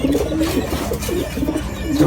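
Racing pigeons coo nearby in low, soft repeated phrases at a derby loft, several overlapping calls in a short steady burst with no talking.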